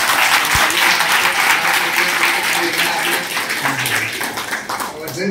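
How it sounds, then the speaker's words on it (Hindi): A room of students applauds at a coaching-institute event: loud, dense clapping from a group, sustained and thinning slightly toward the end, with a faint voice underneath. "तालियां बजा देंगे"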